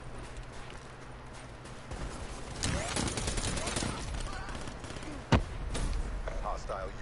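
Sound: gunfire shooting up a window in video game Black Ops 3

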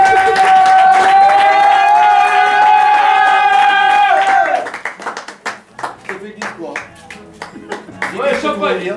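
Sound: party guests applauding and cheering

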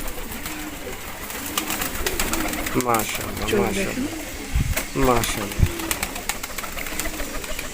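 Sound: pigeons cooing

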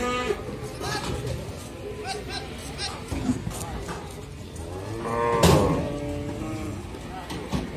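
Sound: jumbo cattle at a livestock market

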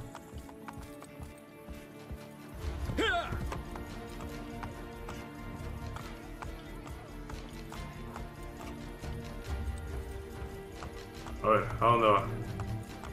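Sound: horse hooves from video game Assassin's Creed Brotherhood

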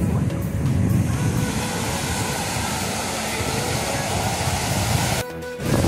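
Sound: strong ocean waves crashing on the beach at Porto de Galinhas

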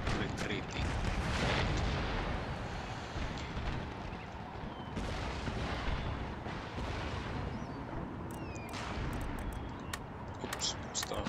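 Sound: cannon artillery fire in Empire Total War video game

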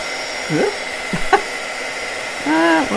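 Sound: heat gun heating embossing powder

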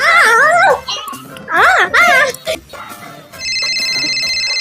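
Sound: telephone ringing

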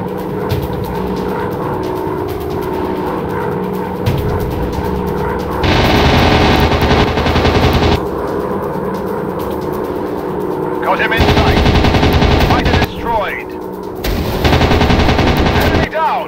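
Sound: machine gun fire in WW2 dogfight video game

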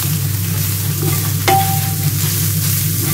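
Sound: fried sauerkraut stirred in a pan

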